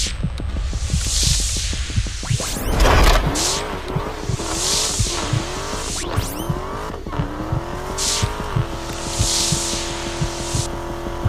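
A Dodge Charger Hellcat V8 engine revving hard, with rising and falling roars, gear-change dips and tire squeal, loud and close with no talk.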